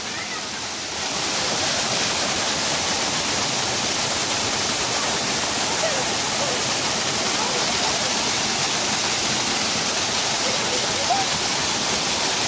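A waterfall at Mangaon in Sindhudurg, Konkan, pours and splashes in a loud, constant roar that stays steady throughout, close by, with people talking faintly beneath it.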